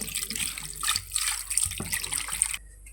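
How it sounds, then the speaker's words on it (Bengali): Water pours from a vessel onto goat meat in a cooking pot beside a wood-fired stove, a close, continuous splashing stream that cuts off near the end. "এটাকে আমি হাতে মাখিয়ে নেব এবার জল দিয়ে দেব"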